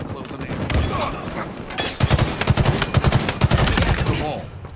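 Rapid bursts of automatic gunfire from Halo Infinite ranked Oddball on the Streets map, sharp cracks clustering densely in the second half over a busy game soundscape with faint voices.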